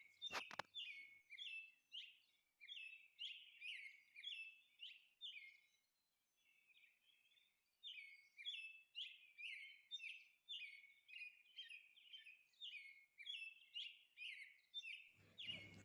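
Parrot chirps sound in rapid repeated bursts of bright, high tweets, clustered in rhythmic runs with a short pause midway, clear and alone with no talk.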